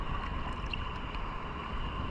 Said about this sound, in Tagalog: grabe na rin kahangin